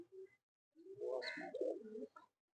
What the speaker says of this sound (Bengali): দোয়াশ পায়রা আছে।